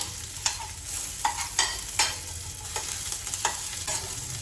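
Small quantity of onion frying in a little oil while being stirred, a steady soft sizzle broken by sharp spatula scrapes at irregular intervals, close and alone.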